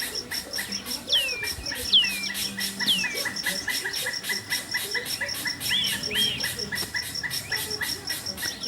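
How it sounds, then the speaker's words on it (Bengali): Birds call beside a river on an afternoon, with several sharp, sweeping chirps near the start and more a few seconds later, over a constant rhythmic pulsing of insects. "কি জোরে পাখি ডাকছে।"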